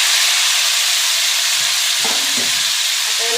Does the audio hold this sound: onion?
yes